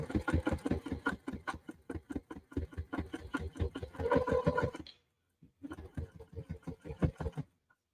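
A sewing machine top-stitches a thick seam on an interfaced fabric tote bag, running in a fast steady rhythm of needle strokes close up, then pausing briefly as it strains at the bulk before stitching on again.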